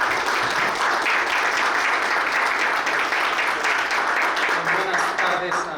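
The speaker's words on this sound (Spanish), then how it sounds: "Les invito, por favor, a darles la bienvenida con un aplauso." Steady applause from the audience at a law commission session welcoming a speaker; dense, even clapping continues at full strength throughout.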